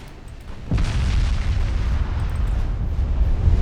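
A heavy 12-inch naval gun shell strikes a warship in the naval battle game Ultimate Admiral Dreadnoughts, a sudden deep boom followed by a sustained loud rumbling roar that keeps rolling without fading.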